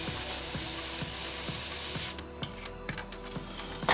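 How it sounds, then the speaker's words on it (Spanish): Degreaser sprayed onto car body metal before painting gives a close, steady hiss for about two seconds, then stops, leaving quieter rubbing and wiping strokes. "y le aplicamos desengrasante para que esté bien limpio"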